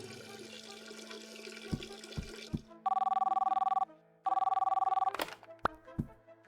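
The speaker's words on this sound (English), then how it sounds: "The phone at my desk should ring now." A desk telephone rings in the video game Mindlock: two long electronic trilling rings with a short gap between them, preceded by a few knocks and a watery background, and followed by more clatter.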